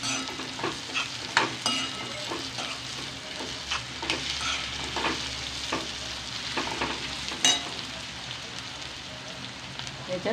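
Chopped drumstick leaves (shevga leaf bhaji) stir-fry in a pan with onion, a continuous soft sizzle broken by frequent scraping stirs of the spatula, close and steady throughout.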